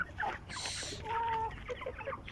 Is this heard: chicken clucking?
yes